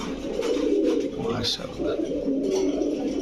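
Pigeons, traditional Khulna birds with red throats alongside Pakistani breeds, coo steadily amid a dealer's bustle, with voices and background chatter running throughout.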